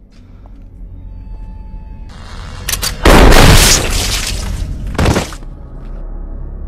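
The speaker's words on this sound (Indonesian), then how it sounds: "Singh berhasil menembak Jigsaw dari arah belakang menggunakan senapan shotgun yang dibawanya" A shotgun fires in a tense film scene, a loud booming blast followed by a second sharp burst, over a low rumbling, dark background ambience.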